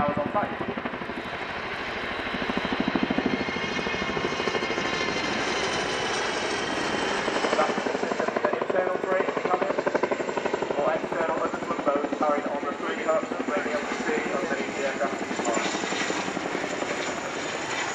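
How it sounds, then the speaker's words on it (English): An RAF Chinook helicopter's rotor thumps and whines steadily throughout at an airshow, moderately loud and close, with a constant engine drone and no talking. "makes the Chinook the workhorse of the RAF support helicopter fleet"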